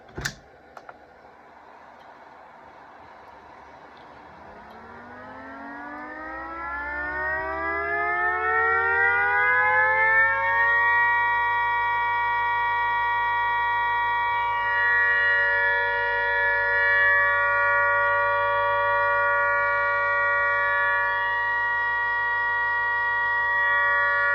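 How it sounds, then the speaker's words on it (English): A small mechanical siren sounding the all-clear tone spins up from a low growl, rising over several seconds to a loud, steady sustained wail that holds without pulsing. "So this would be the all clear tone"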